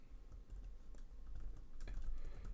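Quiet typing on a computer keyboard, scattered soft key clicks in an uneven rhythm, faint and close, with no one talking.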